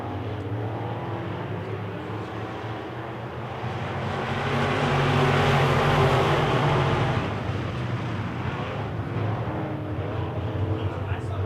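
A pack of Wissota Midwest Modified race cars roars around an oval track at a July 4th race, a dense engine drone swelling loudly as the field passes close, then easing back to a steady distant roar.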